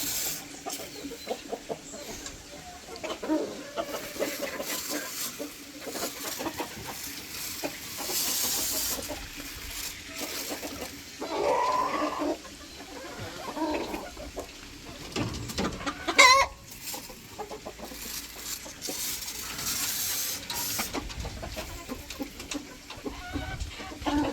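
Chickens in a coop cluck and squawk continuously while disinfectant is sprayed. There are scattered louder calls over a constant, busy background.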